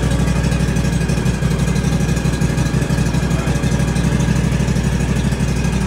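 A 2022 X370 lawn tractor engine idles steadily and loudly up close after a throttle adjustment, its low, even rumble running without a break and with no talking.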